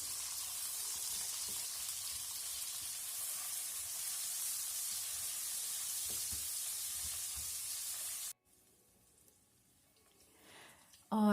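Chopped onions fry in oil in a home kitchen, making a steady, fairly quiet hiss and sizzle that runs for several seconds before cutting out abruptly.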